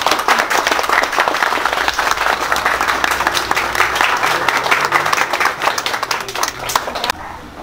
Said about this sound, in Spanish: Un aplauso para los novios.